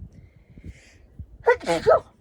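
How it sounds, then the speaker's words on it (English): A single loud sneeze bursts out during a tai chi session after a quiet, breathy lead-in, sharp and close with a short intake before the explosive release. "I'm going to sneeze."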